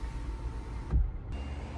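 The electric sunroof on a Kia Rio opens with a steady motor whir inside the car, a brief thump partway through, then the motor hum continues evenly and close.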